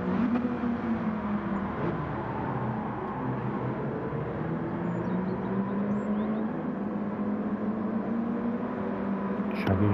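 Racing car engines humming through lap 9 on a back straight in Gran Turismo 7, a continuous droning whine that shifts slowly in pitch at moderate level, with faint overlapping engine tones and no clear talk.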